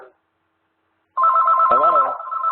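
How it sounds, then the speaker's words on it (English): A telephone rings in a steady electronic warble during a lecture on national poverty trends, loud and close, after a brief moment of quiet. "I'm sorry about my phone here."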